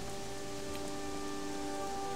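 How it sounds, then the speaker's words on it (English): Steady rain falls in the Gothic 3 video game, a constant even hiss with faint tonal hum beneath, heard alone with no talking. "What a beautiful rainy day it is."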